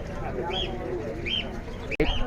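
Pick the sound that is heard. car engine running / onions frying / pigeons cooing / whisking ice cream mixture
pigeons cooing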